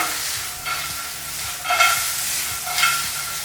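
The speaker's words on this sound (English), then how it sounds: "Now we mix it." Chilaquiles mixed in a sizzling pan, a utensil scraping and stirring in a few distinct strokes over a constant frying hiss, close and loud, with no voices.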